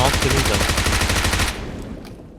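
Rapid, loud bursts of shotgun fire in a video game, fired in quick succession for about a second and a half before dropping to a quieter tail of echo and game noise.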